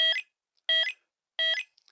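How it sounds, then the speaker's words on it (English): A Royal Enfield Hunter motorcycle's aftermarket indicator buzzer beeps three times in a steady rhythm, each beep a sharp, shrill electronic tone, loud and close. "the sound unit is now beeping, which we can cancel over here"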